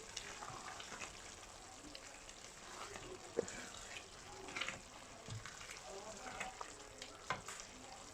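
Mutton mince keema fries in a pan with a soft continuous sizzle, broken by scattered stirring scrapes and knocks, quiet and close.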